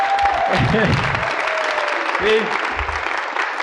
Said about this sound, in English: you get a big round of applause